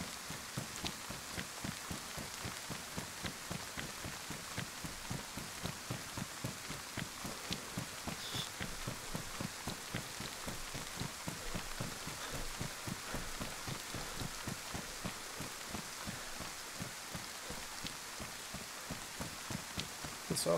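Rain falling in the survival video game DayZ, a steady, dense patter of drops on surfaces, continuous and even throughout with no talk.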